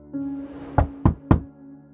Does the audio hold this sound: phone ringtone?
no